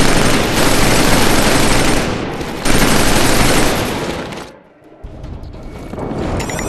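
Covering gunfire in the video game Killzone 3 rattles in sustained, dense automatic bursts with a brief lull before it resumes, loud and close.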